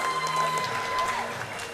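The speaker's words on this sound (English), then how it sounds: "Give him a round of applause." Applause from the audience at a Canadian Powerlifting Union Western Championships meet after a lifter's attempt, a steady crowd clapping throughout with a voice talking over it.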